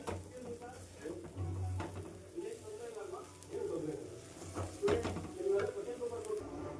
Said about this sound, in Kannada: ಹಾಕ್ಕೊಂಡು ಇದು ಒಂದು 2 ಮಿನಿಟ್ಸ್ ಚೆನ್ನಾಗಿ ಫ್ರೈ ಆಗಲಿ